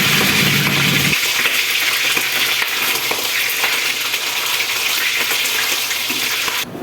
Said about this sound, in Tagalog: Ganito lang siya pag piniprito.